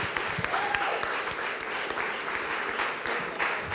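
An audience at a Maronite Academy discussion on Lebanon applauds, producing a steady wash of many hands clapping that sounds fairly distant and soft throughout.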